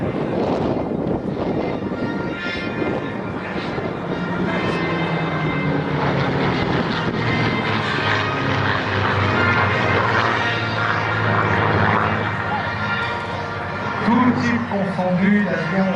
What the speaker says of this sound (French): Les travaux de Reginald Mitchell, voici le fabuleux Spitfire